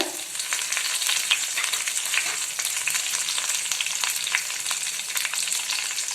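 Urad dal, ginger-garlic paste and curry leaves frying in hot oil, giving a loud, continuous crackling sizzle with a few faint stirring touches and no talking.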